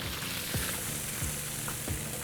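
Fish and sliced zucchini deep-frying in hot oil give a steady, bright sizzle with bubbling, interrupted by a few low knocks and clinks nearby, with no voices.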